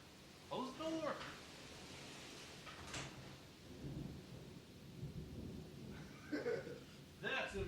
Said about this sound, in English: The rain is going sideways outside and twirling.